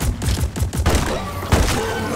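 An automatic turret deployed in a co-op bug-shooting video game fires rapid bursts of gunfire, a dense fusillade of repeated thuds with a louder burst near the end, steady and close throughout.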